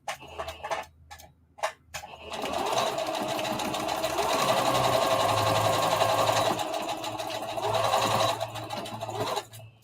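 Sewing machine stitching straight across a circle dress seam and back stitching at the start and stop, a steady close mechanical whirr running for most of the stretch after a few brief starts and pauses.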